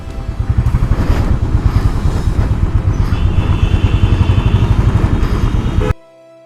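A white Royal Enfield Himalayan BS4 motorcycle runs close by with a steady, loud single-cylinder thump and chugging idle, holding level for about six seconds before cutting off abruptly.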